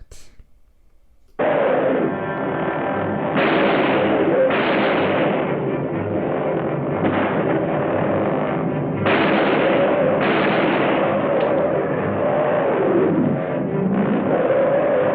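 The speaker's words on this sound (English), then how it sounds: "Gets chased off by a couple of gunshots, so then Gar takes the pistol and heads out," Loud, dense stretch of gunfire and booming blasts after a brief quiet start, carrying on close and harsh with no pauses.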